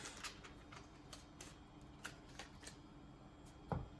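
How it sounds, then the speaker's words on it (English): Quiet, close riffling and flicking of cards comes in short bursts with small taps between, and a sharper knock near the end. "which means I'm shuffling everything again."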